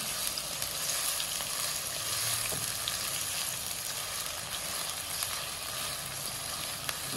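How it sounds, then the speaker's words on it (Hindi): Onions sizzle steadily in a pan over low heat while browning for aloo ki bhujia, a dense continuous frying hiss at close range with no talking. "प्याज शामिल करते हैं थोड़ा सा प्याजों को कलर देंगे"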